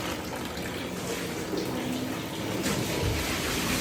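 Water gushes out of an air filter unit during troubleshooting, a dense, loud, continuous rushing and splashing that swells slightly toward the end.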